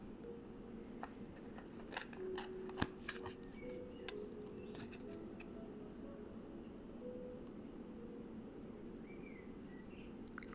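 A deck of oracle cards is shuffled in a soft, continuous riffle with a few sharper flicks and snaps early on, quiet and close, with no talk.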